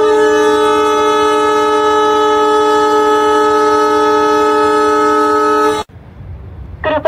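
The 12218 Chandigarh–Kochuveli Sampark Kranti Express at platform 5 of a railway station sounds a loud, sustained horn for about six seconds. The horn cuts off abruptly, leaving quieter platform ambience with faint brief sounds.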